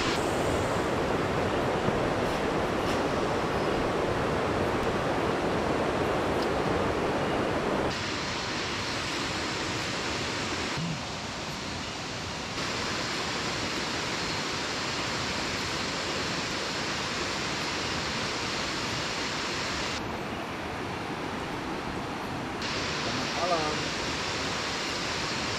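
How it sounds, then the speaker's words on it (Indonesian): Strong wind blows across a family campsite at Lubuk Petai, Kampung Sahom, Kampar, a loud, steady roaring rush that drops slightly in strength partway through and continues without a break. "Tengok, angin kuat."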